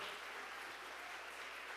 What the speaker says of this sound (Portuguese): Pode aplaudir forte o Senhor mesmo.